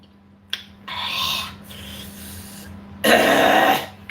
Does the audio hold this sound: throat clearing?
yes